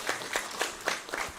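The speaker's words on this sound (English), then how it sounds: "Give them a round of applause." Applause at a school program marking the 147th Foundation Day of Arya Samaj, a brief patch of several hands clapping in loose, uneven bursts at a moderate distance, with no talking.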